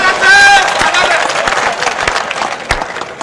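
An audience claps during a comedy show, loud applause crackling in a dense burst of hand claps that gradually thins out, with crowd murmur and a voice underneath.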